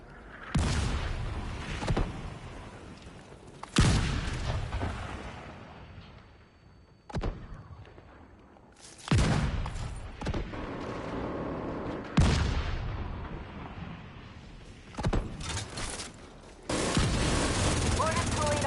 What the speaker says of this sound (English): Get that second mortar firing.